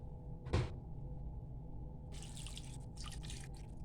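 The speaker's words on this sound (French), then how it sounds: "J'ajoute un peu d'eau" Water is poured into a pan of cooking onions for a kidney dish, giving a short clattering splash followed by bursts of steady sizzling hiss over a low background rumble.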